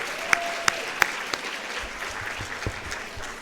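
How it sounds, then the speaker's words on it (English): Audience applause at a talks event as attendees take their seats, a steady wash of clapping with a few sharp nearby claps standing out, fairly faint and continuous, no voices over it. "how about a round of applause for our morning speakers?"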